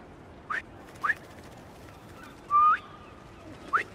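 Pigeons in Marvel's Spider-Man 2 giving several short, separate coos and warbles spaced out over a quiet background, with one longer call in the middle.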